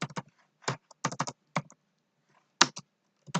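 Bursts of keystrokes on a computer keyboard while writing C++ code, clustered in quick runs of clicks separated by short pauses, close and fairly clear with no talking.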